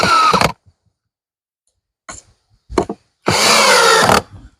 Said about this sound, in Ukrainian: робите отаку планочку, берете шуруповерт